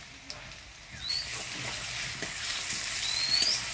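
Onions stirred and fried in tempering oil, a soft steady sizzle with faint scraping and a few light clicks, growing slightly louder toward the end, with no talk.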